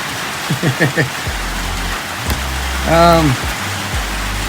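Heavy rain pours in a steady broadband hiss throughout, loud and close, while a person talks and calls out over the downpour.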